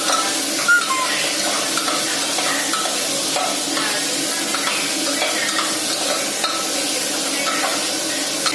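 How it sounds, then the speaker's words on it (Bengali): Onions frying in a pan as they are stirred, a steady dense sizzle with soft scraping running close and continuous throughout. "নাড়াচাড়া করে নেবো।"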